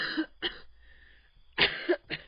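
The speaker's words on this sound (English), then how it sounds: "She coughed and clasped her throat." A woman coughs in a spoken story: a few sharp, close coughs with throat-clearing between them, standing alone without talk.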